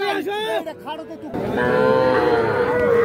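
Young bull calves moo at a village cattle market, Ambari haat, giving a few close, drawn-out calls. Crowd chatter and murmuring voices surround them.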